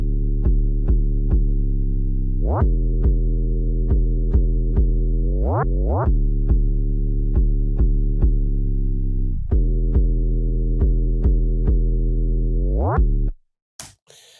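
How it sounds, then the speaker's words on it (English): A deep, smooth 808 bass in an emo trap beat made in Ableton Live 10 plays a rhythmic pattern of sustained notes, several sliding upward in pitch glides, alone and loud before cutting off abruptly. "So I added a little bit of automation to have this 808 glides."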